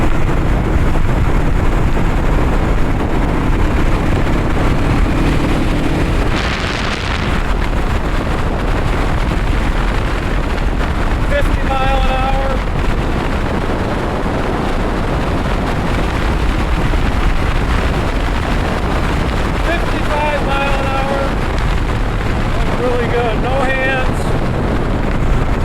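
1975 Honda CL360 Scrambler motorcycle cruising in top gear at about 40 mph, a steady engine drone buried under heavy buffeting wind noise throughout, with a few faint whistling tones.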